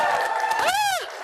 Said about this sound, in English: I want to cheer in here because I want to get the energy cranking